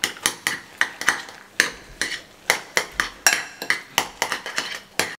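Eggs, three of them, whisked briskly in a bowl, a fast run of sharp clinking taps from the utensil against the bowl's side, close and fairly loud, with no voices.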